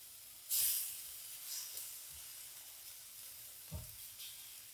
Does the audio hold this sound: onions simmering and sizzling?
yes